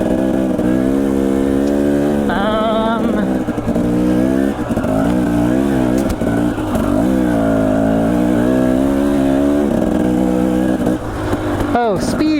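A Beta dirt bike rides single track along the Boise River in Idaho, its engine droning steadily and rising and falling in pitch as the rider works the throttle, loud and close for the whole stretch.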